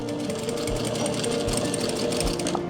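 A sewing machine runs continuously, stitching wide lace onto a dupatta with a fast, even mechanical whir and soft rhythmic thumps, close and steady for the whole stretch.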